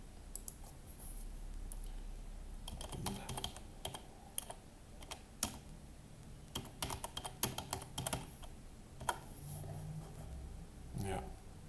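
Keys clatter on a computer keyboard in irregular bursts of close, sharp taps and clicks, with pauses between runs and a faint low hum beneath.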